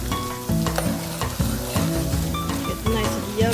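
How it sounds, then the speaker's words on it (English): Crab meat summer rolls deep frying in hot oil, a loud, close, steady sizzle with bubbling crackle and occasional stirring knocks. "I'm going to go ahead and deep fry just a little bit."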